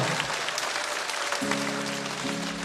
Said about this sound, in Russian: Бурные аплодисменты, Игорь Егоров!